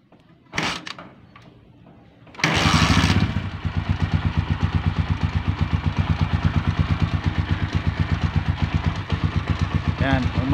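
A motorcycle engine cranks and catches after a few clattering knocks, then settles into a steady, loud, close idle with a regular pulsing beat while someone talks over it.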